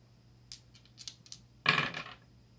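Tarot cards are shuffled up close, giving soft scattered clicks and then a louder riffling burst partway through, with quiet between.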